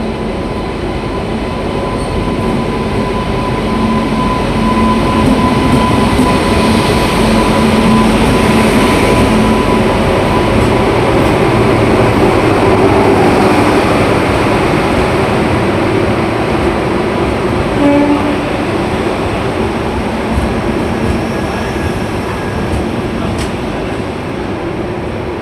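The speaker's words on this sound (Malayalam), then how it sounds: "കേരളത്തിലൂടെ ആദ്യമായി പരീക്ഷണോട്ടം നടത്തി ഡബിൾ ഡെക്കർ ട്രെയിൻ." Udaya Express double-decker train on a trial run, a loud steady rumble of rolling wagons with faint wheel squeal and clatter, sustained and close throughout.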